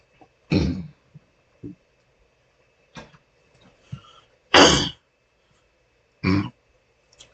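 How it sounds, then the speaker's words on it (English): Several separate coughs and throat clearings come from one nearby person, short bursts spaced a second or two apart with quiet gaps and small clicks between them. "Excuse me for coughing."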